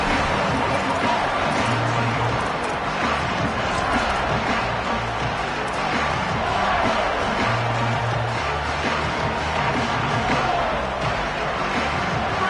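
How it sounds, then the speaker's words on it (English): Stadium crowd noise at an NCAA college football game in a video game, a steady dense roar that holds through the whole stretch under commentary, with no clear peaks. "This crowd ready to make its presence known."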